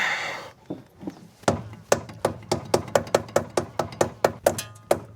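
A rapid, steady series of sharp hammer blows on metal, driving a bump stop into a vehicle, close up and loud, about a dozen strikes in quick rhythm after a few lighter taps.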